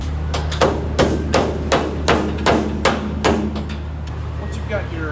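A hammer strikes metal again and again, steady repeated taps driving a bearing on a 410-SP Earth & Turf topdresser during a belt change, loud and close over a constant engine-like hum.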